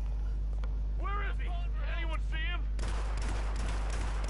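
Gunshots in Hitman on PS4, set in Paris: a harsh, noisy burst of fire follows a short voice, then sustained crackling over a constant low rumble.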